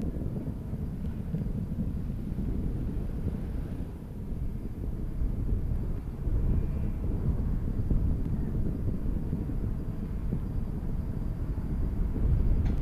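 Space Shuttle Discovery climbing after a night launch from Kennedy Space Center, its rocket engines a continuous deep rumbling roar heard from a distance, broadband and steady with slow surges.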